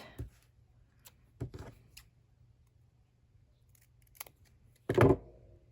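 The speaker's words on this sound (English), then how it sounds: "So I am cutting up this tape, okay?" Scissors cutting through tape for a craft project, a few separate crisp snips spaced out over a quiet room, the last one louder and longer.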